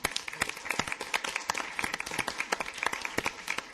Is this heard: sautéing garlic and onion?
no